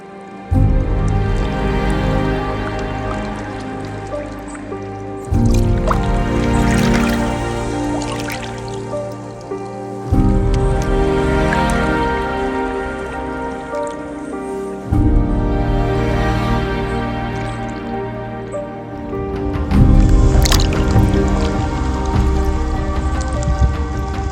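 Water rushes and splashes steadily at Cascade Falls near Harrison Hot Springs, a loud, close, continuous churning flow that swells and eases in waves.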